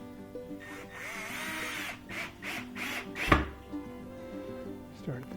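A power drill with its clutch set at 6 drives screws into a panel of a DIY chicken coop, giving a low motor whir and then one sharp, close burst of grinding and clatter partway through.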